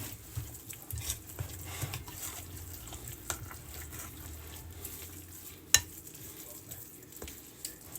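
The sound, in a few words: stirring Mexican casserole mixture in a pan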